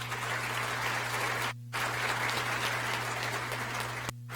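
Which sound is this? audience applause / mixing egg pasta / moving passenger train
audience applause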